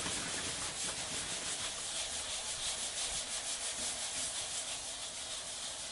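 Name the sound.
hand sanding car body panel with abrasive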